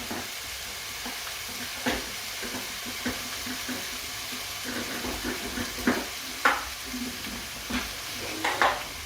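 Chicken curry with blended sauce sizzles steadily in a pan while a utensil stirs and scrapes against it, with occasional louder clinks over the constant frying hiss.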